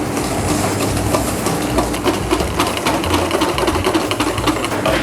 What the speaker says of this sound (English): We do this by adding a third at a time and then whisking to combine.